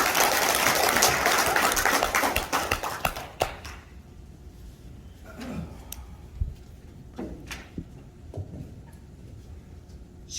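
Audience applause at a Korean lecture event, a dense burst of clapping for about four seconds that quickly dies away, leaving a quiet room with a few scattered claps and small knocks.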